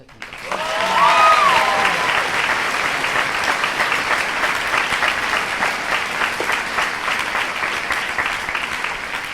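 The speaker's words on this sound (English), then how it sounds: "One more round of applause for our award winners, please." Sustained applause for nursing award winners at a celebration ceremony, a full crowd clapping steadily after a brief tonal sound at the start, holding loud and even for several seconds.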